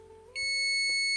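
A FNIRSI DST-210 multimeter emits a sudden, loud, sustained high-pitched electronic beep with a bright harmonic tone, continuing steadily after a quiet lead-in.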